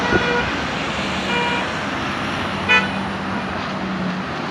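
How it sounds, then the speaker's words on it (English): Road traffic flows across and beneath a busy bridge, a steady wash of passing vehicles with a short car horn toot partway through. "less traffic flow we are seeing here on the bridge"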